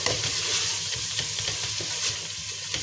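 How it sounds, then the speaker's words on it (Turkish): A spoonful of tomato paste sautés in a pan for a spinach and minced meat vegetable dish, sizzling loudly and steadily up close while scraping stirs come through, with no voices. "Salçayı da güzelce kavuralım."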